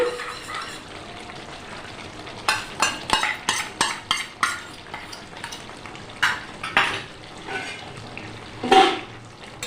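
Beaten sour yogurt goes into chicken frying in a pan, followed by a quick series of sharp spatula scrapes and clatters against the metal over a low steady sizzle, one louder hiss near the end.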